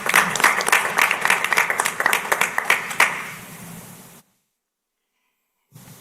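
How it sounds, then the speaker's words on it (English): An audience at a school board meeting claps for about four seconds, a moderate round of applause that fades out and then cuts to silence. "Let's give them a round of applause, y'all."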